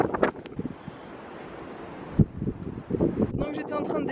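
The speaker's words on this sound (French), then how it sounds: "le vent des fois ça te fait trébucher mais des fois ça te pousse aussi" Gusty wind on Madeira buffets the microphone in a continuous rough roar, broken by a person speaking close by at the start and again near the end.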